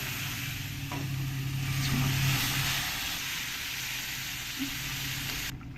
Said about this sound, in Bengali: এর মধ্যে এবার এই তরকারিটা আমি ঢেলে দেবো খুব সাবধানে দিতে হবে দেখো কতটা গরম